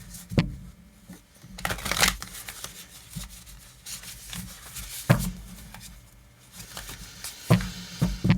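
Tarot cards being shuffled with riffling flutters and soft slaps, several bursts across the stretch, close and fairly loud with no talking.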